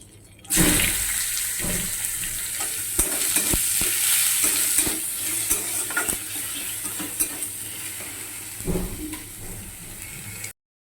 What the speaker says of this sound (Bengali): তো তেলটা একটু গরম হয়ে যাক। তো হয়েই এসেছে, তো আমি এবার টমেটো কুচিগুলো দিয়ে দেবো।